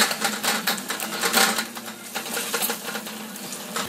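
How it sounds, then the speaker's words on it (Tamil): Cooked tomatoes are mashed with a metal ladle in a pot, making close, continuous scraping, clinking and squelching, busy and fairly loud throughout. "கரண்டிலே நம்ம இதை நல்லா மசித்து விட்டுக்கலாம்"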